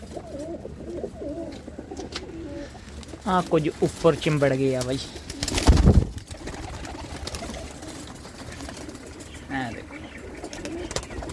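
Home-flying loft pigeons coo in a soft, ongoing background murmur while someone speaks briefly in the middle, followed by a thump.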